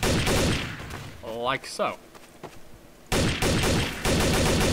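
Unsuppressed gunshots from Counter-Strike: Source, loud rapid bursts of gunfire at the start and again in the last second and a half, with someone speaking briefly in the quieter middle stretch.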